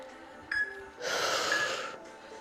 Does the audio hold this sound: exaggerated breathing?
yes